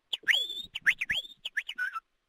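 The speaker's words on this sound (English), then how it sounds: "Signing off with the whistle." A person whistles a short, bright tune of quick rising and falling notes, close and clear, with brief gaps between phrases.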